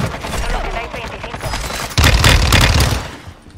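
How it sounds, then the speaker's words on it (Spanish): Gunfire in an Activision shooter video game crackles in rapid bursts, a sudden louder volley hitting midway and fading out, with players talking over the action. "Por la montaña, cuatro tiros, algo."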